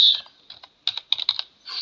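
Quick bursts of keystrokes on a computer keyboard, close and crisp, clustered in short irregular runs separated by brief pauses, with no voice present.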